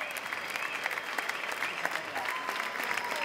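A theatre audience at a village cultural-week play applauds as cast members are introduced, with dense, sustained clapping and a few faint whistles or voices in the crowd.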